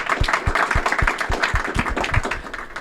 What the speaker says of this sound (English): let's give a round of applause to Peter and Gabriella